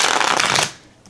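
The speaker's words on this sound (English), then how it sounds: "With as easy as I was able to riffle shuffle, this could be maybe 310 or 300." A pocket-size Rubber Hose Tarot deck by WohStudios is riffle shuffled, giving one loud, close, dense flutter of cards snapping together that stops sharply after about two-thirds of a second.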